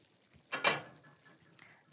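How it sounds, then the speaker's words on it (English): A spoon gives sausage tomato sauce a quick stir in a pan, one short scraping swish followed by a faint clink, close and otherwise quiet. "Give it a quick stir."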